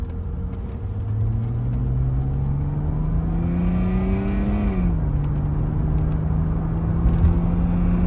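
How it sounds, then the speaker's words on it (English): A 1988 Mercedes-Benz 300SE with a straight-six engine accelerates under load during a test drive, its smooth, rising drone climbing through the gears with one brief dip at a shift, heard steadily from inside the car. "Straight six Mercedes is just really nice sounding engine."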